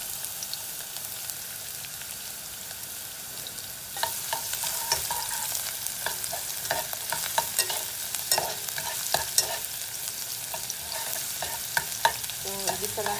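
Garlic, ginger and onion sautéing in hot oil in a pan for Ilocano pakbet with pakway, a steady sizzle and frying hiss that brightens partway through, with frequent scraping and stirring clicks from a utensil.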